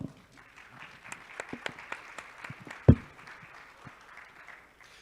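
Scattered applause from an audience at a public health honors event: sparse, uneven claps with one sharp loud clap near the middle, fading to a few isolated claps, fairly quiet overall.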